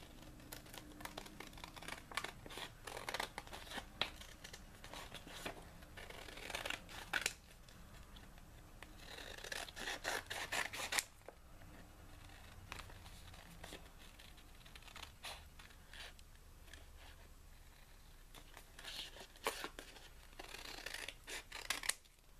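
Scissors cut out a paper envelope template with repeated crisp snipping and rustling of paper, close but quiet, coming in bursts separated by softer gaps, with no speech.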